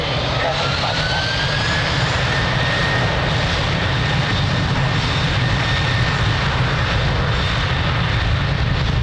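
Airplane taking off at Lisbon Airport: a loud, steady roar of jet engines with a rising whine, continuous throughout and close, with faint voices underneath.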